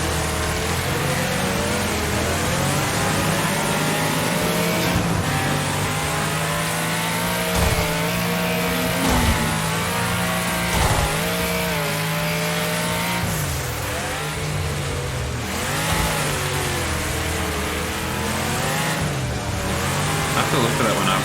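A video game race car accelerates hard around a racetrack, its engine droning loudly and continuously with rising and falling revs as gears shift, joined by occasional tire squeal and a voice talking over it.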